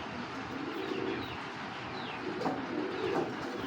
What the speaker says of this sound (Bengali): এখন দেখতে পাচ্ছেন একটা তোতা শেপের একটা খাকি কবুতর